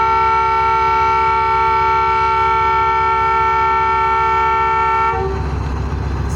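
The Tezgam Express train horn blares in a long, steady tone for several seconds at Multan railway station, then cuts off, leaving the deep rumble of the train departing toward Lahore.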